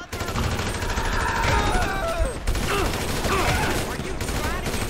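Grand Theft Auto V gunfire erupts in loud, dense bursts of rapid shots that run almost without pause, mixed with game sound effects and a voice heard faintly under the barrage.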